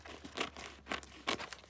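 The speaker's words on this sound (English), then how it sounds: "You can even hear those scissors working." Scissors cut through fabric with paper backing for a collage, a few quiet, crunchy snips spaced apart with soft rustling between them.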